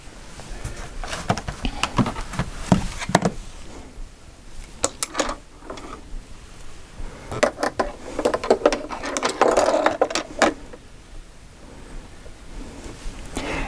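A home sewing machine stitches a seam in bursts, its needle ticking in short rapid runs with pauses between, close and moderately loud over faint room noise.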